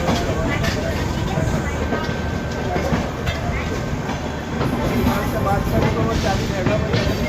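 Heard from on board the Odisha Sampark Kranti Express as it pulls into Kanpur Central: a continuous loud rumble with rhythmic wheel clatter and rail noise, and voices in the background.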